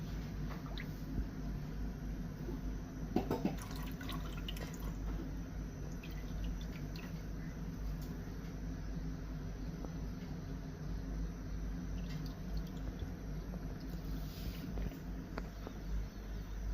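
Oil boils in a pan on the stove with grated coconut in it, part of a homemade herbal preparation. A steady, even bubbling hiss runs throughout with small pops and drips, close and moderately quiet.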